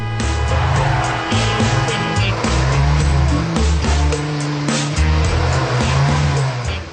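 A car pulling away during a driving lesson, its engine loud and close with shifting revving tones and a brief tyre squeal, steady throughout with no talk over it.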